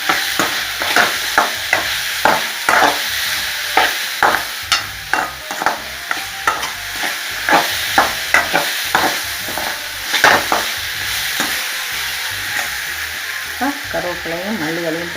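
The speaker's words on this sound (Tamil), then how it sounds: "தேங்காய் போட்டு கொஞ்சம் கிண்டு" Coconut being stirred in a hot pan for spicy chutney, with rhythmic scraping strokes of a spoon repeating about every half second over a light sizzle, close and fairly loud.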